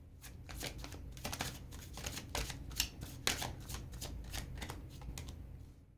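Tarot cards shuffled by hand in a steady run of crisp riffling and slapping bursts, close and fairly quiet, with no voice over them.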